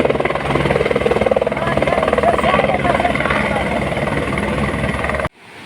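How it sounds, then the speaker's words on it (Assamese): A helicopter landing at the Kedarnath helipad, its rotor thumping in a loud, rapid steady beat close by, holding for several seconds before cutting off abruptly. "কেদাৰ বাবালৈ হেলিকপ্টাৰ ছাৰ্ভিচটো কেনেকৈ হয়, হেলিকপ্টাৰ আহি আছে"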